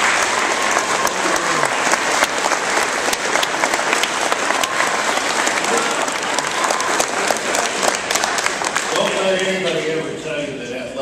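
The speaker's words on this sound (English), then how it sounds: "let's give them a big round of applause" An audience applauds a girls' team being honored with a state citation: dense, sustained clapping fills the room throughout, thinning slightly at the end as a voice comes in.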